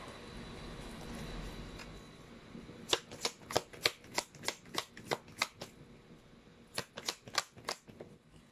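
Tarot cards being shuffled, with a soft rustle at first and then a quick run of crisp, close riffling flicks in two bursts, and no talking.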